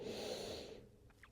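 One long, breathy exhale during a yoga child's pose, close and audible, fading out after about a second into near silence.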